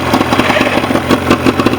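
An outboard motor on a Starcraft boat runs close by with a steady, throbbing mid-pitched chug and no voices.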